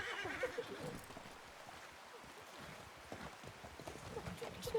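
Horse whinnying in a Western video game, a short neigh near the start, followed by faint clip-clopping hooves and soft ambient noise.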